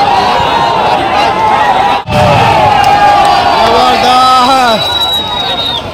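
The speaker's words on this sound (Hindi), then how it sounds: "तालियां बजती हैं" Crowd erupting in cheers and shouts at an All India kite flying final in Lucknow, loud layered voices yelling near and far with a brief dip midway, then whistling and rising calls over the din.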